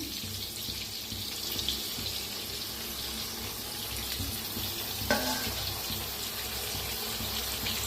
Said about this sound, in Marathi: थोडंसं पाणी ओतायचं कडेने